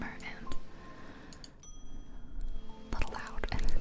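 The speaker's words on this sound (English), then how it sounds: "you would ring the bell to invite your first customer in." A small bell in an antique shop gives a single clear ring that lingers and fades, set between soft close whispering.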